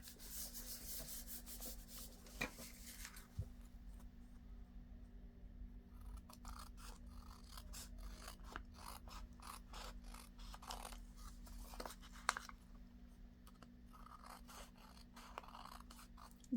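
Scissors trim the edge of a paper envelope, producing quiet close-up snips and rubbing paper sounds in an irregular series, with short pauses between cuts.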